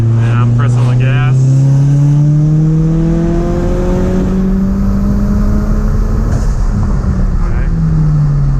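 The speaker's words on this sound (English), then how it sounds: "And I'm pressing the gas." Ford Mustang EcoBoost with a big turbo accelerating hard in third gear, engine note climbing steadily in pitch from low drone to a strained rev, loud and close from inside the car, with a voice speaking briefly at the start.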